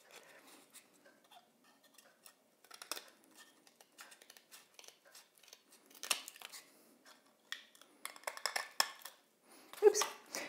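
Scissors snip through card for a model culvert diorama base, a series of close, crisp cuts with short pauses between, louder toward the end.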